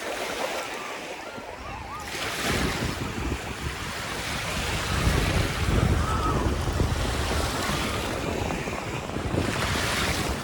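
Waves and surf rolling onto Crystal Beach at Fort Erie, with sand, rocks and dunes along the shore, give a steady broadband wash that swells and recedes, with wind noise buffeting the microphone throughout.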